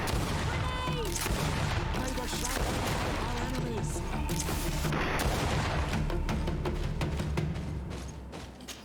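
Rifle gunshots ring out in the video game GreedFall amid a battle, several sharp cracks and booms over continuous combat noise and scattered voices.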